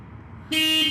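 A Daihatsu Midget II car horn gives one short, loud, steady honk that cuts in suddenly after a quiet moment and holds to the end.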